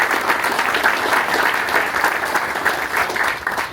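A big crowd at a run club event with March On, 247 and Soho House claps steadily and loudly throughout, dense applause with no pauses.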